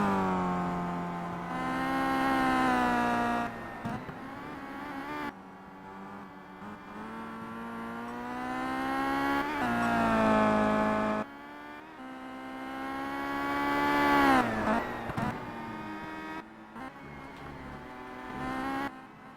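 Chevrolet WTCC race cars lapping a circuit in the Simraceway racing game, a loud sustained engine whine rising and falling through the gears, with several long acceleration sweeps broken by brief drops as cars shift or pass.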